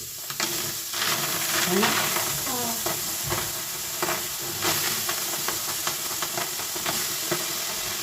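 Green field beans (pavta) roasting on a hot black tawa, a steady crackling sizzle broken by scraping stirs and occasional pops, close and without speech.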